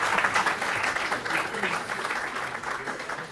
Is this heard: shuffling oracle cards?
no